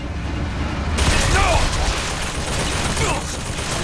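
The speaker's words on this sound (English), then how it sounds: "Somebody got a machine gun!" Sustained automatic gunfire in a dense, loud firefight in Bioshock Infinite, with rapid bursts layered over continuous battle noise and voices talking underneath.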